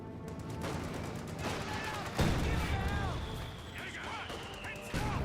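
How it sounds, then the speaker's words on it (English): Mortar shell impacts and gunfire in the World War II strategy game Company of Heroes 2, a sharp crash near the two-second mark over continuous dense battle noise, with a commentator's voice running over it. "Mortar gets a decent hit there."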